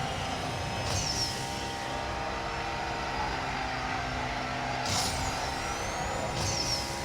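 A car drifts in the racing game NFS No Limits, its engine holding a steady, loud droning whine with a few rising tyre-squeal sweeps on top.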